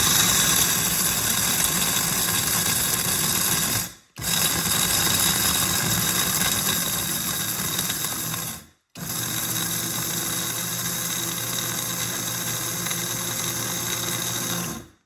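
An electric grinder grinding aronia chokeberries, a loud continuous motor whir with a rough grinding texture, running in three long stretches separated by two brief stops.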